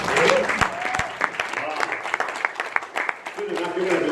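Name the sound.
round of applause from audience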